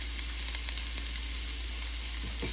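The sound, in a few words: chopped onion sizzling as it is added to hot oil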